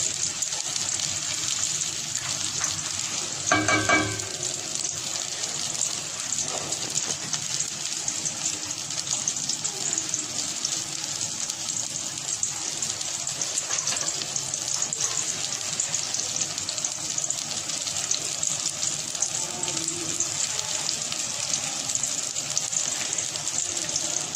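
Onions softening in a pan for a Lahori chicken-and-chickpea dish, a constant hissing sizzle with faint clinks and a short clatter of a utensil, no voices.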